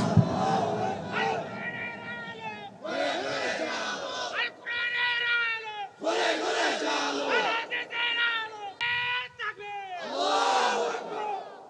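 A large crowd at an Islamic sermon gathering roars Allahu Akbar in repeated loud, chanted bursts answering a Takbir call, four or five swells of massed voices with brief gaps between them.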